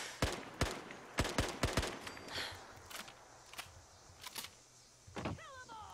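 An unsuppressed SKS rifle mod in Fallout 4 fires a run of sharp, loud shots, several in quick succession early on, then scattered single reports with short echoing tails, followed by a whirring mechanical sweep.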